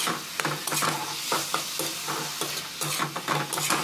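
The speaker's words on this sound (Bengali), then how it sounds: "এবার এর মধ্যে ভেজে রাখা সবজিটা আমি দিয়ে দিচ্ছি। দিয়ে ভালো করে নাড়াচাড়া করে মশলার সঙ্গে ভালো করে কষে নিতে হবে।" Fried spiny gourd (kantola) is stirred into a sizzling spice masala, a steady frying hiss broken by repeated scraping strokes of a spoon against the pan, close and fairly loud with no talking.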